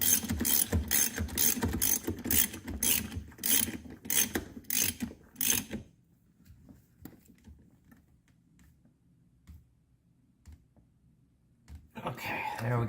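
A hand ratchet clicks in a rapid, regular burst for about six seconds while tightening a bolt during a carbon fiber steering wheel installation on a 2014-19 Chevrolet Corvette C7, close and loud, then quiet follows with brief talk.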